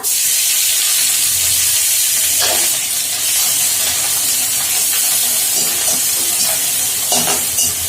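Onion paste hitting a hot pan for a fish-head curry, giving a loud, continuous sizzle and hiss of frying with occasional stirring scrapes, close up and filling the whole stretch.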